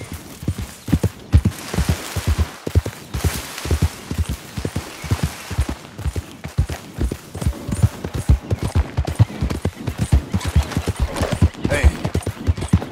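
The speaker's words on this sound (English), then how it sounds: "Ain't you a good horse?" Hooves beat in a fast, continuous galloping rhythm from a horse ridden in the Western video game Red Dead Redemption 2. The rhythm is close and loud against rushing background noise, with brief voices mixed in.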